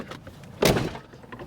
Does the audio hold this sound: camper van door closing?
yes